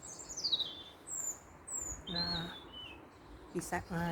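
Several birds chirp and whistle in short, bright calls in trees at dusk during a UK winter, over a soft background hum. A few near, louder chirps stand out at the end.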